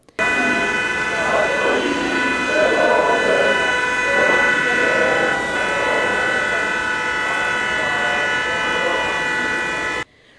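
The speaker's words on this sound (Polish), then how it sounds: "w tle syren, okrzyków i narodowego hymnu słychać było nawet klaksony tych, którzy zapewne znaleźli się w tym miejscu przypadkowo" Steady wailing sirens held on long tones blend with car horns during a street commemoration of the Warsaw Uprising hour in Dąbrowa Górnicza, a continuous loud blare with shouting crowd voices underneath.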